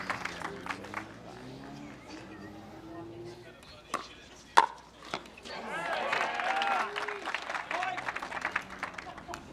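Spectators at a professional mixed doubles pickleball tournament match clap and cheer after a point, a fairly loud, sustained burst of applause swelling midway, with scattered sharp paddle-like hits and voices mixed in.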